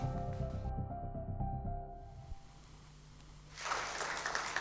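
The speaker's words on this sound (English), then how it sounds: "Let us applaud the remarkable journey of Arehole Shwetha." Applause from an audience at an alumni awards ceremony breaks out near the end, a broad burst of clapping rising after music and a quieter stretch.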